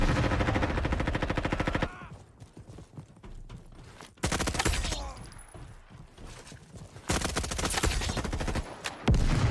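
Gunfire in the Roblox Frontlines shooter game: loud, rapid automatic bursts open and close the stretch, with a quieter gap of scattered, thinner shots and clatter between them.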